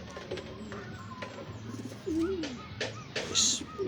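Racing pigeons coo softly in a low, rounded burble amid faint bird chirps and light background rustle, with a slightly louder coo standing out midway through.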